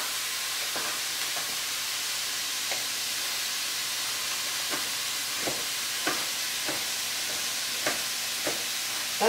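Garlic sizzles in a hot pan, a steady frying hiss with faint scattered pops and clicks of stirring, close and without talk.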